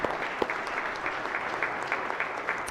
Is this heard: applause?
yes